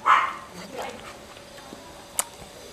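A pet dog at home barks once sharply at the start, fairly close, then gives a fainter follow-up yelp. Room noise continues beneath it during a spicy noodle and fried chicken wing eating challenge.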